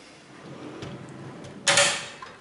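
A drawer on a Harbor Freight 5-drawer mechanics cart slides with a short, bright metallic rush that rises sharply and then fades, heard close up after a stretch of quiet room noise.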